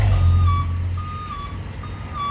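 A tipper truck's warning beeps repeat steadily at a regular pace as its tipper bed is raised or lowered, over the heavy engine idling close by.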